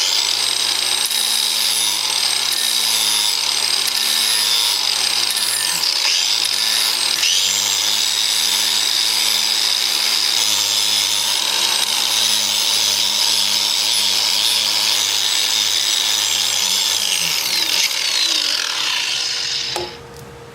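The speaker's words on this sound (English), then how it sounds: "with my angle grinder with a flap wheel on it" An angle grinder fitted with a flap wheel sands a wooden bowl turned from very hard wood, a loud, close, sustained whine with brief dips as it bites into the wood, winding down at the end.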